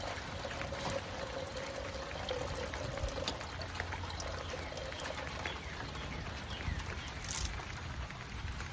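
Rainwater pours steadily into a jug with a soft continuous splashing and trickling, faint and close, with no voices.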